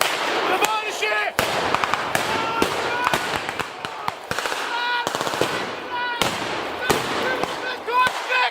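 Reenactors fire blank rounds in rapid bursts and single cracks at a battle reenactment, the sharp reports rattling off continuously while voices call out underneath.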